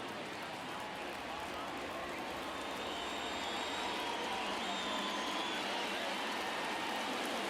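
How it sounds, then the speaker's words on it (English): A large baseball stadium crowd in a video game roars in a steady, dense wash of cheering that builds slightly, with no single voice standing out. "you can feel this crowd waking up a bit here"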